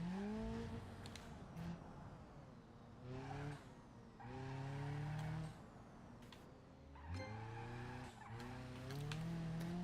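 Cars skid and squeal their tires in BeamNG.drive, with repeated rising engine revs and long screeching slides that come in waves, loud and close, with no talking over them.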